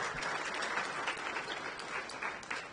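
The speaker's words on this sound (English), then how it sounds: "Can we clap for them?" A university audience at an honorary doctorate ceremony gives steady applause, a dense wash of many hands clapping evenly through the whole stretch with no talk.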